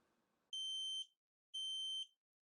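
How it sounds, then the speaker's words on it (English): Two loud, piercing electronic beeps from an AEGISLINK Wi-Fi combination smoke and carbon monoxide detector during a test, each about half a second long, separated by a short silence, after faint low rumbling. "Okay, so there's the beep."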